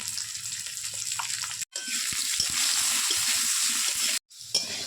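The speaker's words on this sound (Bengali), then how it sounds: "এবার প্রথমে আলুগুলো ভেজে নামিয়ে নেব" Steady hissing sizzle of potatoes frying in oil with salt and turmeric, broken by two brief silent gaps, with faint low clatters underneath.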